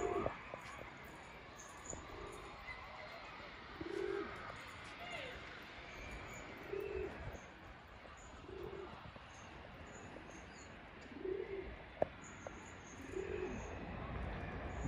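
Pigeons coo softly and repeatedly, roughly every second or two, at a distance outdoors under an overcast sky, with faint chirps and low background noise.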